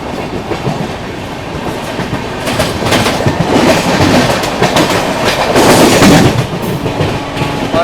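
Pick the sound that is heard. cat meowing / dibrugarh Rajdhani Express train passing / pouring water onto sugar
dibrugarh Rajdhani Express train passing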